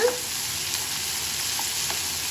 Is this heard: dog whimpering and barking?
no